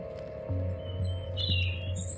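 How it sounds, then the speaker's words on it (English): Lovebirds screech and chirp in a video game scene, short high calls scattered over a steady low electronic hum and soft background music. "These look like lovebirds, I think. They're screeching beautiful tunes at one another."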